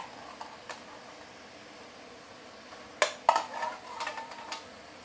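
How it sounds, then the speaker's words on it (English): Boiled Maris Piper potatoes tumble into a pan of chicken vindaloo, a sharp clatter followed by a few scraping, sizzling bumps, close and alone without talk. "Those boiled potatoes go in."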